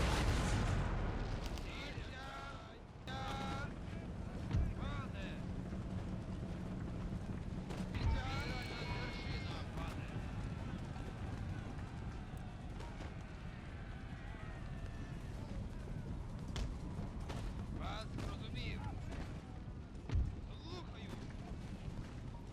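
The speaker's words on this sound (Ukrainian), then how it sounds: "загін генерала Готехольда Фейда все ще стояв біля гармат, котрі активно обстрілювали фортецю" Cannons firing at a fortress in a strategy video game, heard as scattered dull booms and thuds under a steady rumbling battle din. Someone narrates throughout and stays on top of the low, continuous noise.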